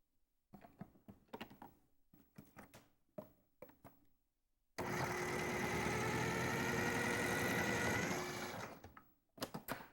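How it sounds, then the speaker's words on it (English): Food processor chopping cabbage wedges, its motor whirring loudly for about three seconds, set between bursts of knocking and handling noise from the kitchen. "You need to cut your wedges small enough to go in the food processor."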